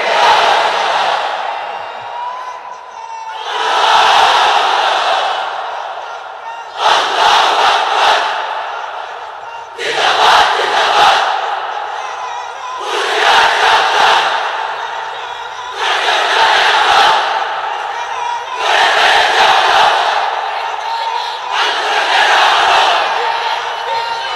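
A large crowd at an open-air Islamic religious sermon in a pandal chants takbir in loud, rhythmic collective shouts, about seven surging bursts with brief gaps between them, filling the space with massed voices.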